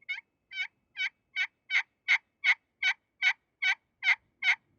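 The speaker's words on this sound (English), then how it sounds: "The larger you make the circle, the raspier the yelp's going to be" A friction turkey call worked with a striker gives a steady run of about a dozen raspy yelps, evenly spaced, close and clear, with nothing else underneath.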